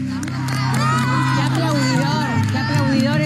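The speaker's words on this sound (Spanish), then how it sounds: "¡Qué aplaudidor este equipo!" A team on the Argentine baking competition Bake Off Argentina cheers and claps, an excited crowd of whoops and shouts under music, loud and sustained, with voices calling out over the din.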